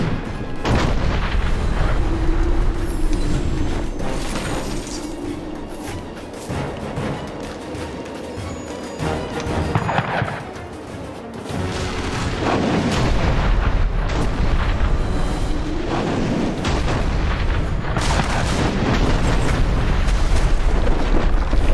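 Heavy booming video game cannon fire rolls on continuously, dense and loud, with overlapping blasts and rumbling in a battle scene.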